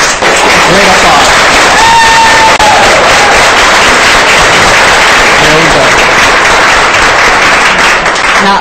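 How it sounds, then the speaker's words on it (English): Loud, dense applause from a studio audience welcoming a guest to a tarot card reading show, with cheering voices mixed into the steady clapping throughout. "let's give her a great applause"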